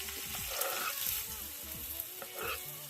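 Onions and chilies frying in a pan with asafoetida crackle and hiss loudly, while repeated stirring strokes scrape through the sizzle at an irregular pace, close up and with no voices.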